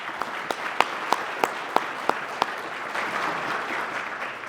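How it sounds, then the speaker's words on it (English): Applause for two police detectives being honored at a regional Top Cop awards ceremony: several sharp individual claps open it, then a modest, steady round of clapping from the audience continues, moderately distant. "A round of applause now for our next honorees"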